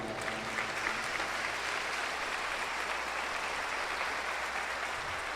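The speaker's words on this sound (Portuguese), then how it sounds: "Dê uma salva de palmas para o Pai." A church congregation at Mass applauds continuously, a dense, even roar of clapping hands filling the whole stretch without voices.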